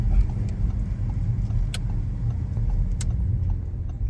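An Audi RS4 drives slowly uphill on an Austrian Alpine road near Obergurgl, a steady low engine rumble with road noise inside the car and a couple of faint clicks, no talking.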